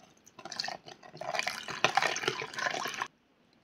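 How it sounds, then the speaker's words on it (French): A glass of water poured into a pan while cooking beef loc lac: a close, steady splashing pour lasting about two and a half seconds, then stopping abruptly, with no talking. "On ajoute un verre d'eau"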